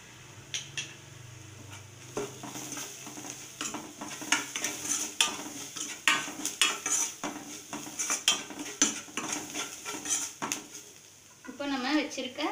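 Onions sauté with turmeric and salt in a pan for Tamil-style potato chapathi filling, with repeated spoon scrapes and stirring clatter over a soft sizzle, ending in a short burst of talk.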